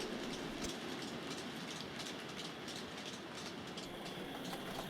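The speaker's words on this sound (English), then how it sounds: "Here we see the coal train returning to the yard." A model coal train rolls along a model railway, a steady close rumble with rhythmic clicking of wheels over rail joints, with no talking.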